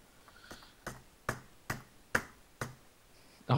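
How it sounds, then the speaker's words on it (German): Hard, sharp taps on a computer keyboard, about seven separate strikes at a slow, uneven pace, close and fairly quiet with no talking. "Auf der Tastatur rumhämmern bringt auch nichts."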